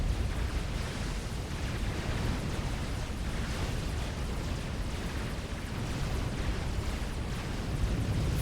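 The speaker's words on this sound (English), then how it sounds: "it was a support commander going pop in the background" Support commander unit blowing up during a Supreme Commander 4v4 match on the Setons Clutch map, a dense, continuous roar of battle explosions rumbling steadily throughout.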